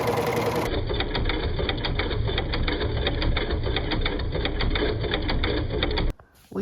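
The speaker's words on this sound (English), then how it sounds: "I am going to serge trim that" A serger sews and trims a fabric edge in steady, fast, rapid mechanical chatter that runs continuously for several seconds, close and alone, then stops abruptly near the end.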